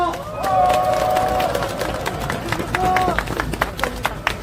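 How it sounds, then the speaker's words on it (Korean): Crowd applause and cheering at an outdoor political rally in front of the Constitutional Court in Seoul, steady dense clapping mixed with crowd noise and some voices, fairly loud throughout. "큰 박수로 환영해 주십시오."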